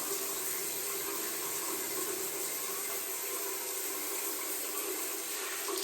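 Water runs steadily from a tap as a sea moss face mask is rinsed off, a constant close hiss with no pauses and no speech.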